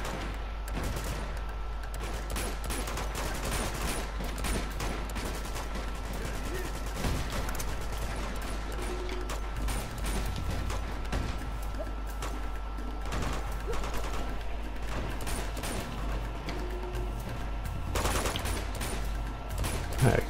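Gunfire from Uncharted 2: Among Thieves, sustained bursts of shooting and scattered impacts running under a steady low rumble of background noise, fairly loud throughout with a few sharper spikes near the end.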